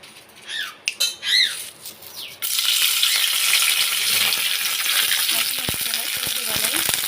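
A voice talks briefly, then oil in a vadai pan on a stove bursts into loud, steady frying that crackles and sizzles without a break to the end.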